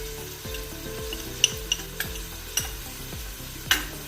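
Spices, chili powder and garam masala, stirred in a pot for Afghani Kabuli pulao. About half a dozen distinct, rhythmic scraping strokes sound close and clear over a low, steady sizzle, with no voices.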